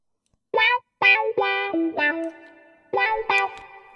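Electric guitar in Logic Pro X playing a short run of sustained, overdriven chords and notes in bursts. Reverb is added bit by bit, so the tails grow longer and ring out between phrases, with no voices.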